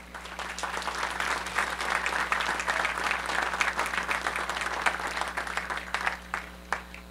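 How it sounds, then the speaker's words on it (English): Sustained audience applause at a university architecture commencement ceremony, many hands clapping in a large hall with a low steady hum underneath, tapering off near the end. "Let's give another round of applause to all the parents and family members here."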